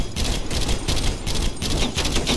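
Rapid automatic sentry turret gunfire in Call of Duty: Black Ops Cold War, a dense, continuous rattle of shots in short pulsing bursts that runs loud and steady for the whole stretch.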